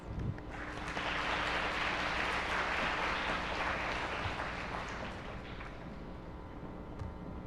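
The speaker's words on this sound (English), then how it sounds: "Please welcome Mr. Mourato Gordo with a big round of applause" Large audience applause at an international career fair, welcoming a speaker. Dense clapping swells quickly, holds loud for several seconds, then slowly fades as it trails off, with no talking.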